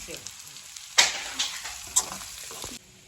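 Vegetable pieces are tossed and stirred in a hot pan, producing a soft sizzle broken by a few short scraping sweeps of a spoon, fairly quiet and close, with no voices.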